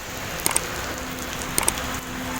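Lingering rain during a roadside stop on a motorcycle ride on an Apache 160 2V gives a steady soft hiss, with a few sharp clicks of drops or gear, and no voices.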